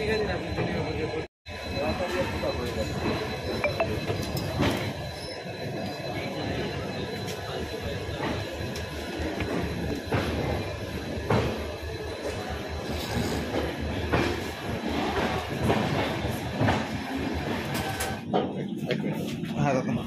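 Rajdhani Express, the 12301 Howrah–New Delhi service, rolls along the rails with a steady, loud broadband rumble and wheel noise heard from on board, running continuously with a brief dropout near the start and talk over it.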